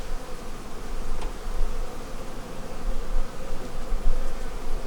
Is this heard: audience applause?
no